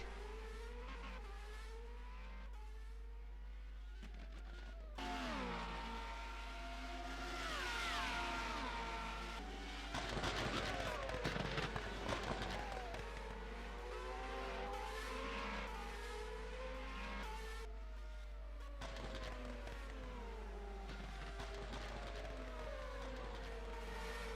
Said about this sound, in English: Here's Decker going on the inside of Vanessa. Lovely overtake.